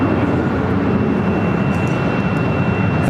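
A Southwest Airlines Boeing 737-800 jet landing at LAX, arriving from Las Vegas, fills the air with a loud, steady engine roar that holds without break.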